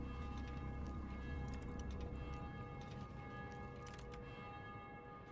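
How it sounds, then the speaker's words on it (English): A bell in the video game Dying Light rings with repeated strikes that sound somewhat distant over a steady, low game ambience. "I need to know why that bell's ringing."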